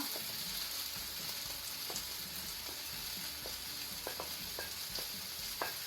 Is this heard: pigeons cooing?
no